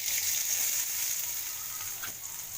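Onion sautéing in hot oil with cumin seeds gives a steady, close sizzle that holds at an even level for the whole stretch, with no talking over it.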